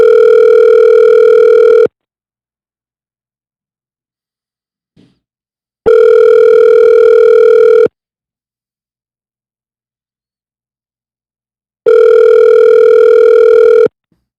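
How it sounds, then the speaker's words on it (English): A telephone ringback tone sounds three times, each steady electronic tone lasting about two seconds, followed by roughly four seconds of silence, loud and clear with nothing else heard as the call goes unanswered. "You just let the phone ring."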